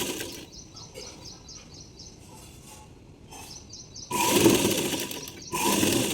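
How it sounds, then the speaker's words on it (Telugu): Sewing machine stitching folded cloth for a small child's umbrella, with short runs of rapid mechanical stitching that stop and start, then louder bursts of handling noise near the end. "ఇలా మడిచేసి ఇలా అయితే ఒక కుట్టు వేస్తున్నాను"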